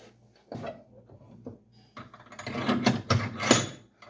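Metallic ratcheting and clicking as a ThinkPro turbo socket works on a broken-off bolt, irregular clanks and gritty turns that grow busier toward the end.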